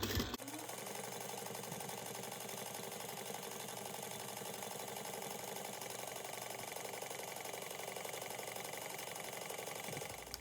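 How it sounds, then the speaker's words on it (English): A sewing machine bastes fabric layers together with long stitches, a quiet, continuous even whir running steadily for about ten seconds with no talking. "go ahead and lengthen out your stitches and then baste at an eighth of an inch"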